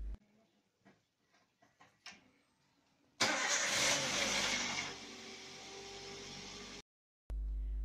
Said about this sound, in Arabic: Masukin kunci mobil dan nyalain mesin mobilnya.